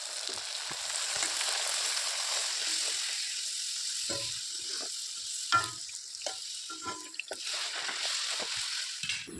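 A pan of breakfast food fries with a steady sizzle through a busy home morning. Occasional clinks and stirring scrapes from a spatula break through the frying.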